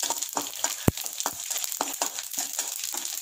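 Dal roasts in oil in a pan for kuzhi paniyaram, crackling softly under a regular rhythm of spoon scrapes and stirs, with one sharp knock against the pan.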